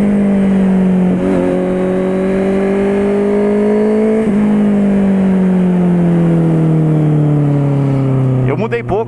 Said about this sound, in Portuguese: Só para enfatizar o ronco também,